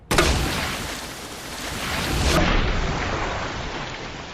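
Acid rounds from a grenade launcher splash in Resident Evil 2, giving a loud, wet, broadband burst followed by a second splash about two seconds later, each fading into a hissing wash, with no talk.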